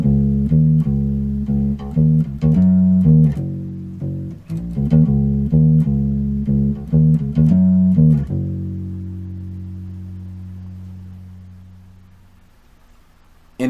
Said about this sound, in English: That bass line is going to sound like this.